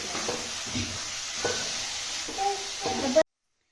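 Fresh grated coconut roasting in a pan over a medium gas flame for coconut barfi, with a steady close sizzle and periodic scraping stirs of a spatula against the pan.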